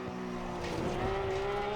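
A Porsche 911 GT3 R in Assetto Corsa Competizione drops a gear at Snetterton, a continuous close engine drone with a pitch change as the revs shift, with no speech over it.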